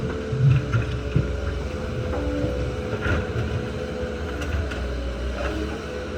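A skid steer loader moving dirt at a high-elevation construction site gives off a steady low engine drone with wind noise and faint clanks, constant at moderate distance, with no talking.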